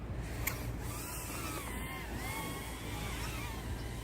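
A KingKong 90GT FPV drone fitted with upgraded 1102 10,000 kV motors takes off, giving a steady high-pitched whine with rising and falling tones over a constant whooshing rush, close and fairly loud throughout.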